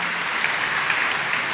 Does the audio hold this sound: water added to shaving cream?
no